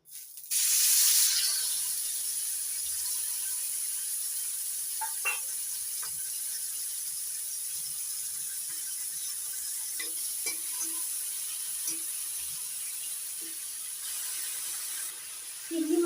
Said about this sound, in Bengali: নুন হলুদ দিয়ে চিংড়ি মাছগুলো মেখে নিয়েছি এবার ভেজে নেবো